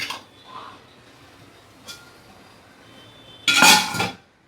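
A prepared steaming plate for mung dal dhokla is set down in a steamer: faint clinks early on, then a loud, close metallic clatter and scrape near the end, with no speech.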